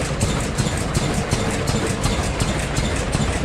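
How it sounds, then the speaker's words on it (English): Steam engine driving a sawmill at an antique machinery show, giving a steady, loud mechanical chugging with rapid regular pulses and a low rumble running continuously throughout. "That engine right there is pretty much running the entire building."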